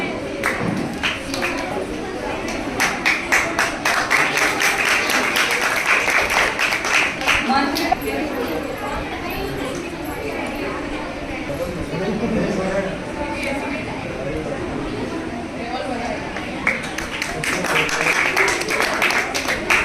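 Applause for students honored at a girls' school ceremony, with scattered claps that thicken into bursts, mixed with crowd chatter and a voice speaking over them for the whole stretch.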